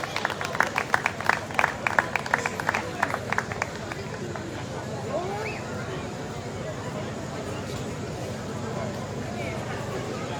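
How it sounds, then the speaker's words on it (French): An outdoor crowd at a patronal festival in Le Robert claps for a guest, the Miss Beauté Noire winner. Brisk, rhythmic applause fills the first few seconds, then fades into murmuring crowd noise. "On l'applaudit s'il vous plaît."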